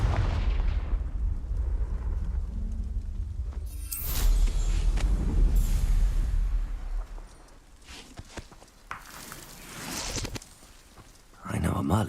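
Confringo blasting spell explosions in Hogwarts Legacy, a couple of sharp booming blasts with low rumble and crackling tails, close and loud, with a voice speaking between them.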